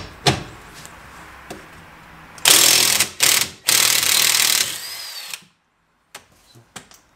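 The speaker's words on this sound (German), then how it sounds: "Und dann nehmen wir uns einen Schlagschrauber, gucken, ob wir die gelöst kriegen hier oben." Impact wrench loosening a sway bar link bolt on a BMW E39 in a garage: a brief clack, then loud, sustained rattling hammer bursts for about three seconds, followed by quiet scattered clicks.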